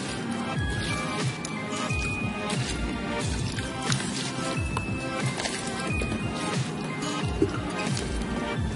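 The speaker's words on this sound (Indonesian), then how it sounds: "kita siram dulu menggunakan air." Water splashes and trickles continuously onto soil around chili plants, wet and close, pouring steadily for several seconds.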